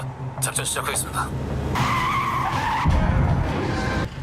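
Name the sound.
car tire bursting and car skidding, film scene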